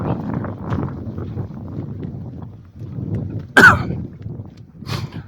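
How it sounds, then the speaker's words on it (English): A single sharp cough cuts through steady wind noise outdoors on a hiking trail up Brushy Peak, with a fainter second cough a moment later. "Don't worry, that's a safe cough."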